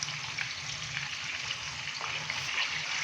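Chicken fries with ginger, garlic and green chilli paste for Bombay biryani, with a steady close sizzle and spatter that runs unbroken throughout.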